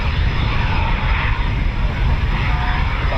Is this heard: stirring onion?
no